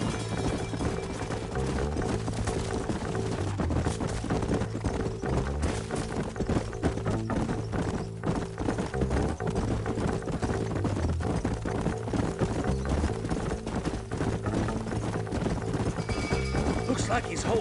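Steady clip-clop of horse hooves with occasional whinnies from the video game Red Dead Redemption, continuous and dense under a layered game soundtrack, with talk mixed in.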